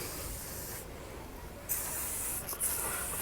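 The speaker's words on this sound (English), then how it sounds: "Easily spray on my tank." WD-40 sprayed from an aerosol can onto the metal tank of a Yamaha RX100 two-stroke motorcycle: a steady hiss, then a louder burst of spray partway through with short breaks near the end, close and alone.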